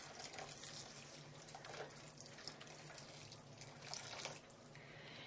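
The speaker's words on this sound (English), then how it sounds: "the beauty of couscous is you just pour some boiling water over it" Boiling water poured from a kettle over dry couscous in a bowl, a steady close splashing pour that runs the whole time with small swells, fairly quiet overall.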